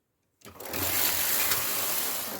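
A knitting machine carriage runs steadily across the needle bed while knitting English rib, starting abruptly after a brief silence and holding a dense, continuous whirring rattle at close range with no talk.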